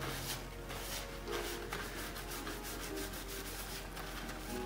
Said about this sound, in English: So I'm gonna take some more alcohol and just try to wipe off the excess glue.